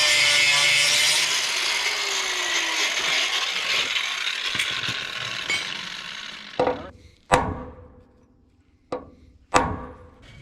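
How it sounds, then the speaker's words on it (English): Power grinder cutting rivets off the rear suspension shackle brackets of a 1962 Ford F600 truck, a loud, harsh, sustained grinding that winds down, followed by several sharp metallic knocks. "we're gonna attempt to grind one of these rivets off and then drive it out"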